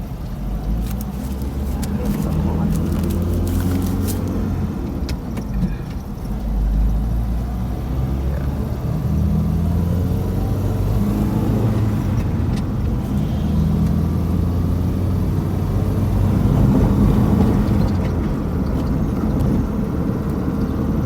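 A 2012 Dongfeng DFM mini truck with a 1000cc four-cylinder gas engine and five-speed gearbox, heard on a test drive as a loud, steady engine drone and road rumble throughout.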